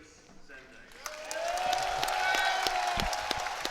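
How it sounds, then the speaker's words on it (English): A crowd at a Rubik's Cube speedcubing championship, the WCA Oceanic Championship 2022 final, swells into cheering and applause for Feliks Zemdegs, building from quiet to a sustained roar with scattered claps and an announcer talking over it. "You listen to the crowd and you don't even need to know who's coming on next."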